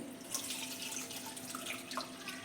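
Spiced pani puri water with coriander and mint poured through a sieve, a steady close trickle and splash of liquid running into a vessel, alone without talk.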